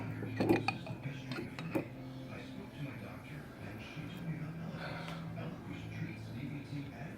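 A spoon clinks and scrapes against a cooking pot as apple jelly is stirred into a simmering sauce for brisket, with faint, sparse metallic taps under a low voice.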